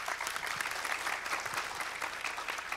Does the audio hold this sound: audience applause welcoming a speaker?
yes